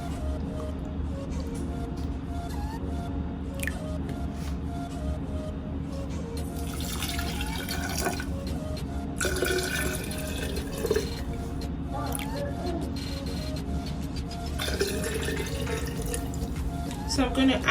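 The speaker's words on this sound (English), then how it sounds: "I am going to be adding water." Water poured into a pot that holds cloves for a home remedy, a soft trickling and splashing running under a constant low hum, with brief brighter bursts of pouring partway through.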